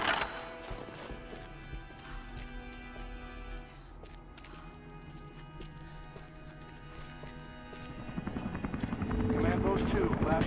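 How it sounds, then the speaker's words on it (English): Helicopter flying in the video game Rise of the Tomb Raider, a rotor drone running under game music and voices, swelling louder and closer toward the end. "Command Post 2, last chopper outbound."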